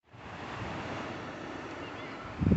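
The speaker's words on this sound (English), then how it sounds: "I decided to just stop for 1 minute and listen to the waves" Ocean waves break near the San Clemente pier in California, a continuous broad roar of surf mixed with wind buffeting the microphone, with a louder thump of wind near the end.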